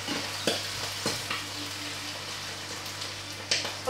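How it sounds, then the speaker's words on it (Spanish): Pig blood frying with tomato in a pan, a soft steady sizzle with occasional sharp clicks of stirring, fairly quiet and continuous with no one talking. "Pues ya tenemos bastante fritita la sangre."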